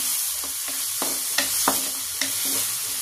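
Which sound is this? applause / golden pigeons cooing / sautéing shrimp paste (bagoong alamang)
sautéing shrimp paste (bagoong alamang)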